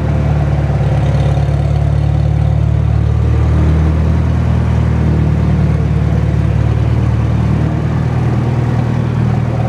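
A Farmall Super M tractor engine runs loud and close, a heavy, steady low-pitched chug as it is put in gear and pulls away, with no talking.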